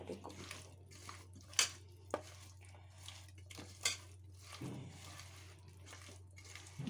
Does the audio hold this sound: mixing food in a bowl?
yes